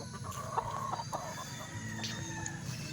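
A Murphy White Hackle gamefowl rooster clucks in short repeated bursts near a pen, with other birds faintly calling in the background over a low steady hum.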